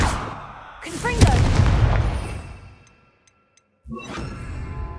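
Confringo blasting spell explosion in the video game Hogwarts Legacy: a loud booming blast with a whooshing rumble that fades into silence, followed by a second sharp burst.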